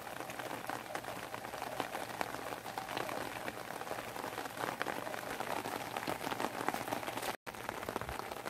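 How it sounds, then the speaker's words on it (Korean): Steady rain falls on Jeju Island, a dense continuous patter close by with no speech, briefly cutting out near the end before resuming. "제주도에 비가 오고 있어요."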